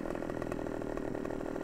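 A chainsaw in Farming Simulator cuts steadily through a tree trunk while logging, a continuous buzzing engine whine with a fast pulsing rhythm, fairly quiet and with no voices over it.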